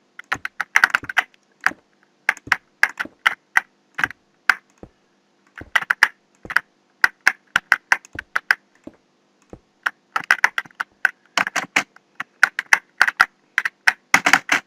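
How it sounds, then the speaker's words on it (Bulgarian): Fast, uneven keystrokes on a noisy membrane computer keyboard, clattering close up in bursts with brief pauses and no voices. "Ако ми се чува клавиатурата, шумна е, да."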